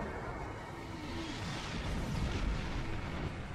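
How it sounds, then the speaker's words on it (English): Heralds open fire on the time portal in Star Trek Online: a dense, continuous roll of rumbling weapon blasts and booms, fairly faint and unbroken, with no voices. "The heralds are firing on the portal!"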